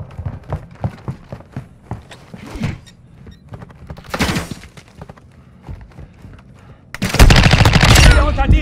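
Gunfire in Call of Duty Modern Warfare 2 multiplayer, scattered close shots and thuds with movement sounds, then a loud sustained burst of rapid automatic fire at the end.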